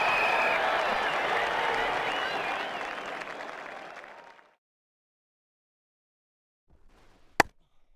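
A cricket crowd at an India v Australia Test match roars with applause and cheering for a big shot. The noise is dense and sustained for about four seconds, then cuts to silence, followed by a brief sharp sound.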